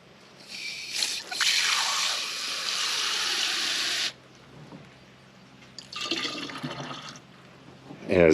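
Water rinses into a 2-gallon spray container for vineyard spraying, bursts of splashing and pouring that stop and start again, with brief trickles between, fairly close and moderately loud.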